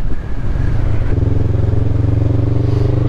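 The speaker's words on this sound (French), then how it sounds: "C'est quand même plaisant d'avoir un petit bruit moteur comme ça." A steady, loud engine drones close by, its low rumble deepening and settling into an even hum partway through, with no voices.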